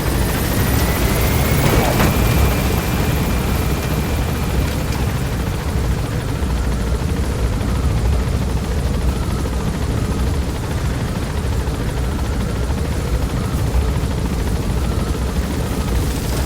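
Helicopter gaining altitude in the video game Metal Gear Solid V: The Phantom Pain, a loud, continuous rotor roar and engine drone that holds steady throughout with no talk over it.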